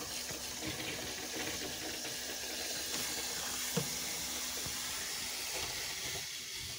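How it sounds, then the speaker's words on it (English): Water runs steadily into a mini washing machine inside a motorhome, a soft continuous hiss and trickle with a faint knock partway through, heard close and alone without talk. "let's get a bit more water in there"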